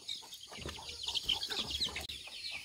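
Chickens cluck softly on a farm in the early morning, a busy mix of overlapping clucks at moderate distance with no talk.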